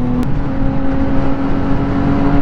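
Several Nissan 240 cars rev and drive away at a car show, a loud continuous engine roar with a rising whine as they pull off.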